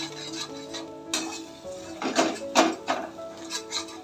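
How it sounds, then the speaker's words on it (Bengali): Spices sautéing in oil for a pabda fish curry, with a spoon clattering and scraping against the pan in uneven bursts over a faint sizzle, close by. "এরপর আপনি ভালোভাবে কষতে থাকুন।"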